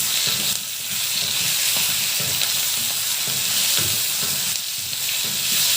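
Onions fry in a pan for chicken khushka rice with a dense, continuous sizzle and occasional stirring scrapes, close and steady with no voices.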